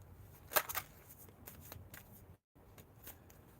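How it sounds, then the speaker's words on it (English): Tarot cards are shuffled by hand in a series of soft, quick riffling and sliding bursts, close up and quiet, with a brief silent gap partway through. "So I'm gonna just shuffle up some cards."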